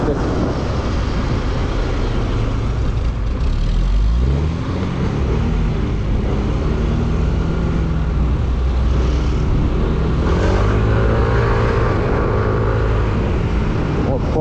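A Yamaha Majesty 155 scooter on the road, its engine droning steadily and rising in pitch as it revs and gathers speed, loud and close under constant wind rush, with someone talking over it.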